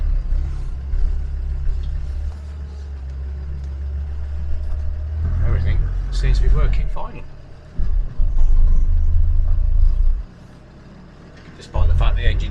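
A Land Rover 130 Defender with a cold engine rumbles low while driving on private land, its drone rising and dropping with gear changes, while someone talks over it.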